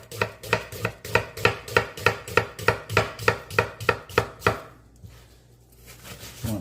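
A knife chops onion finely on a cutting board for mac and cheese with chorizo: about fifteen steady, evenly spaced thuds, close and crisp, then they stop and only quiet handling noise is left.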